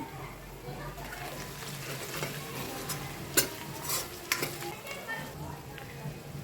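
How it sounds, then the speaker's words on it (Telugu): Onions frying with salt in a pan, the first step of a crab curry, with a constant soft sizzle, a few sharp utensil clinks and scrapes against the pan, and a voice speaking over it. "ఉల్లిపాయలు మగ్గటం కోసం కొంచెం సాల్ట్ వేస్తున్నానండి"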